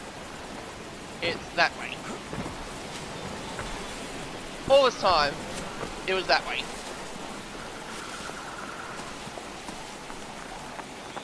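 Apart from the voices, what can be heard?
waterfall in the video game Crysis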